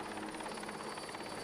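A helicopter moves back over a ship at sea, its rotors throbbing in a fast, even pulse with a steady engine whine, close and continuous.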